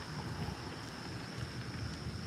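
Gusty wind outdoors at a small pond buffets the microphone in low, steady rumbling bursts, with no voices and nothing else standing out.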